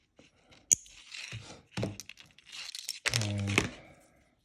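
Fishing line for a dropshot rig being cut and handled, with sharp snips, rustling and crinkling in short separate bursts near the mic, with no talking.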